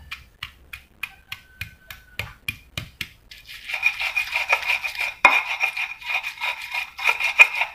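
Chili and spice paste pounded in a stone mortar, first as a run of evenly spaced sharp knocks, then a steady close rough grinding and rubbing that grows denser and louder.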